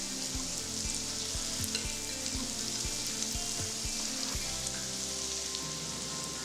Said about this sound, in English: Fry till fragrant.